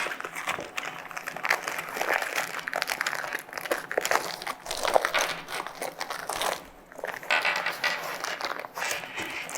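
Divesoft Liberty counterlung bladder bag being handled and fitted, giving close, continuous crinkling and rustling with brief pauses and no voices.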